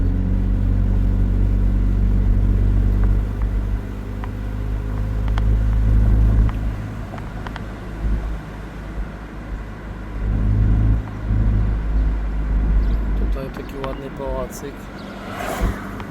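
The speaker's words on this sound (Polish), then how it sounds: "no ale tak teraz no to jeżdżą samochody." Cars driving past on a suburban road in a wealthy Illinois neighborhood, a low engine rumble that swells and fades as vehicles pass, with a person talking over it.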